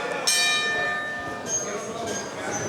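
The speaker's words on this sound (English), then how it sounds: "There's the bell opening this contest, this tag team contest here." A wrestling ring bell clangs to open a tag team match, giving a bright ringing strike with long sustained overtones followed by a couple of further rings, heard beneath crowd noise and commentary.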